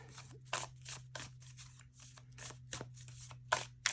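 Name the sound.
shuffling and drawing tarot cards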